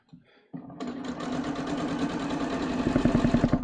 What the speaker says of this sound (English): All right, so I'm just sewing at a 1/2 inch here.